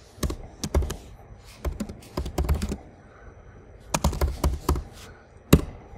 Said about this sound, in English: Remote box, I'm just typing here